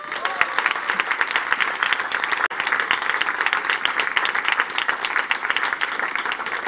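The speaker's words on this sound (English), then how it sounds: "A big applause for Shema." Sustained audience applause at a youth dialogue event on climate adaptation, steady dense clapping from a full room lasting the whole stretch, with a brief dip midway.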